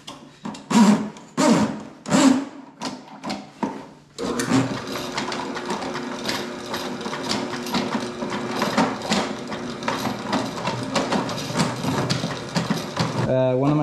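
A Ridgid K400 drain snake machine clearing a floor drain in a rental property runs as a steady, close mechanical whir and rattle. Brief speech-like sounds come before the motor starts.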